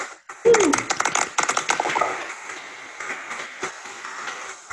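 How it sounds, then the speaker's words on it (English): A small audience at a founder talk and interview event breaks into a burst of applause that swells quickly and then thins to scattered claps and chatter. "Can we do the round of applause?"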